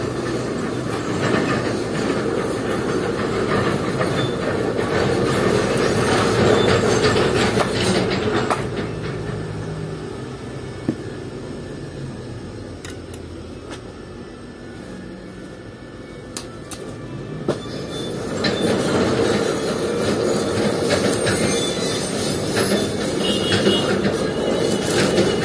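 An amateur works an arc welding machine set at about 80 amps on a roll-up shutter, making two stretches of harsh, crackling sizzle separated by a quieter pause.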